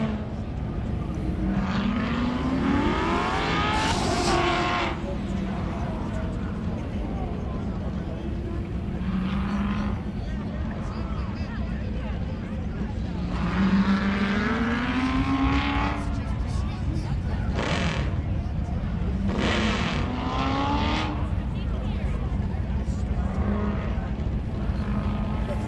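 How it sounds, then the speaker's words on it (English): A race car at full throttle at a King of the Mountain racing event, repeated rising engine sweeps passing by at a distance, heard under continuous announcer commentary. "He's hauling the mail through the finish line, hard on the throttle."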